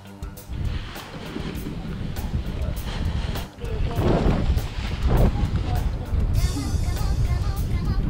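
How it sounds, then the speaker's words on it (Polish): Wind buffets the microphone outdoors with a steady gusting rush that swells louder midway, while a person talks intermittently. "Wieje dobrze, ale z boku."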